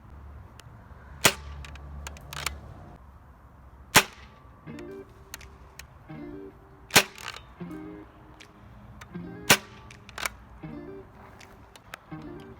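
Buzzbee Night Tek foam dart blaster firing flat shots: five sharp, loud cracks spaced a few seconds apart, each followed by softer clicks and rattles of the blaster being primed, with no talk.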